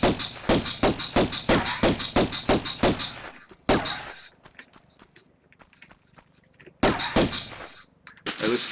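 Gunfire at crocodiles in the original Tomb Raider game, in the Palace Midas level: a rapid, evenly spaced run of loud shots, a short quieter pause with soft game sounds, then more bursts of shots.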